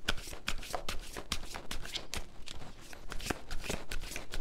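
Tarot cards being shuffled during a reading: a rapid run of crisp papery riffles and slaps, close and fairly quiet, with no talking.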